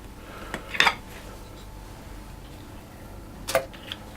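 A metal muffin tin being handled in a home kitchen while baking cherry, lemon and coconut muffins, giving two short, sharp metallic clanks a few seconds apart against a quiet background.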